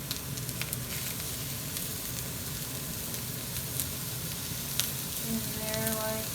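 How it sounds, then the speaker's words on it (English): A burger fries in a hot pan with a steady crackling sizzle and occasional sharp pops, fairly quiet and close, with a brief scrape and clatter near the end and no talking. "So I take the burger, just turn it over, and it sizzles a little bit."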